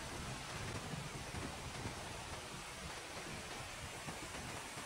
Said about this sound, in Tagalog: Ang napakaganda at nakakamanghang talon.